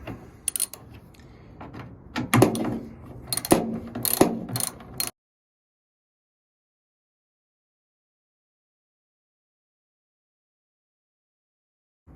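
A ratchet loosens 10mm tail light bolts on a Nissan D40 pickup with several quick bursts of clicking pawl close by, then abrupt silence for the rest.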